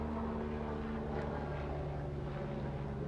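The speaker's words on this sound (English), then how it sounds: "pardon the helicopter" A distant helicopter passing overhead during an outdoor talk gives a steady low rotor drone, faint but continuous under the quiet setting.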